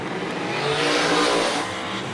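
Chevelle drag car launching hard down a drag strip, a loud broadband engine roar swelling to a peak midway and then easing off, with hints of tire noise, no talk.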